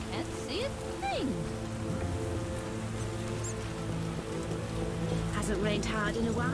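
Steady rain hisses throughout a rainy scene in the video game The Witcher, a constant wash of falling water with game music tones and brief effects layered over it.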